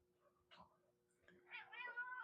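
A cat meows faintly nearby in a pottery studio, a few soft, wavering cries rising toward the end over a low steady hum.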